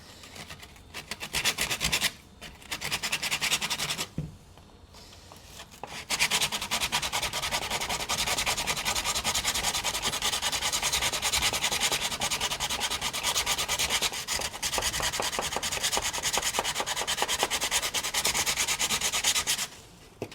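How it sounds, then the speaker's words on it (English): Sandpaper rubbed by hand over an old abandoned skateboard deck, a loud continuous rasping scrub at close range with a couple of short pauses near the start. "we're gonna just sand this with sandpaper"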